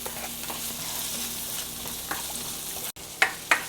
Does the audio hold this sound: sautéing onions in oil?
yes